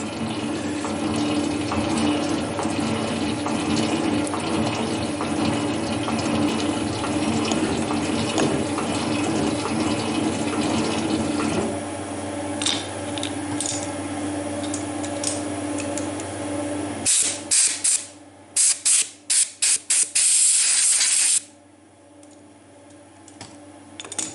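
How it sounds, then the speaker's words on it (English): Cutting fluid floods a machined pocket on a scale model shaper during a crossrail job, giving a steady liquid wash with fine ticking and clicking texture, then breaking into bursts of louder hissing spray near the end. "The pocket is flooded in cutting fluid."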